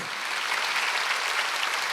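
A church congregation claps together, producing a dense, even burst of applause from many hands that fills the space at steady loudness for two seconds.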